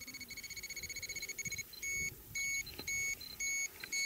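An ECOTEST radiation detector sounding its alarm, measuring mildly contaminated material near Chernobyl: rapid high electronic beeps in fast pulses, then longer steady tones in a repeating on-off pattern, loud and close.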